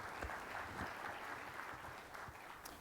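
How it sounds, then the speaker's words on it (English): Audience applause at a conference presentation on used vehicle retail, a steady soft patter of clapping from a crowd, fairly faint and distant throughout. "If you would, a warm CPO round of applause"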